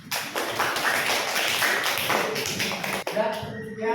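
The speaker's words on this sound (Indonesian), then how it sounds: "tepuk tangan kawan-kawannya" Classmates in a school classroom clap briefly, a short burst of light applause under talking voices, ending as a voice continues.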